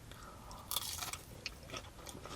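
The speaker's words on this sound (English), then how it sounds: "You get the lovely crunch from the batter on the outside, and the cheese on the inside." Someone chews crunchy battered halloumi fries, crisp batter outside and soft cheese inside, heard as close, irregular crunching bites and mouth sounds with no talking.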